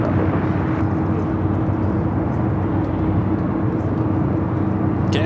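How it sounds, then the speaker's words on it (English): A KLM Boeing 787-10 Dreamliner arriving at LAX from Amsterdam, a steady, dense jet rumble heard at moderate distance with no voices over it. "787-10 Dreamliner coming in from Amsterdam"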